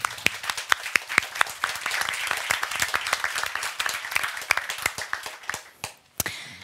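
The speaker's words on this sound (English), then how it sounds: "Welcome and a warm applause for the panel." Applause from a conference audience greeting a panel on protracted crises and humanitarian funding, with dense, steady clapping and sharp individual claps standing out, fading briefly near the end before a final clap.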